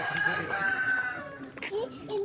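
A rooster crows once in a sustained call from a neighbouring house, moderately distant, with voices talking faintly around it.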